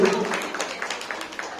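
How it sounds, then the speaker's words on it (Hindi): An audience at a Navratri spiritual program claps for two young girls: quick, bright clapping with sharp individual hits under a speaking voice that fades after the opening. "मैं सबसे अनुरोध करूंगा जोरदार तालियों के साथ एक बार इनका उत्साह बढ़ाइए।"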